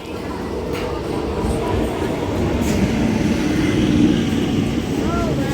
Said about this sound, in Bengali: তো দেখতেই পাচ্ছ কৃষ্ণনগর লোকাল ঢুকে গেছে